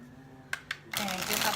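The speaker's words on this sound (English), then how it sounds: "I do have to shuffle the cards because I get the energy flowing this way" A deck of tarot cards is handled: two quick taps, then a close, continuous riffle-shuffle flutter lasting about a second, over faint background hum.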